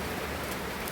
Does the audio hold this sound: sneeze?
no